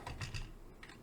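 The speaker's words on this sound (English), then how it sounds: "Why am I typing so badly?" Keys clatter on a computer keyboard in a quick, uneven burst of clicks, fairly close and alone, during a Latin translation session.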